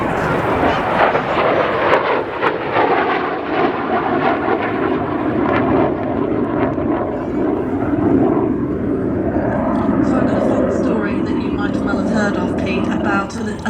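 A Polish-built MiG-17F (Lim-5) jet fighter passing at an air show, a loud, roaring jet engine sweep that rises and shifts as it flies by, with a commentator talking over it.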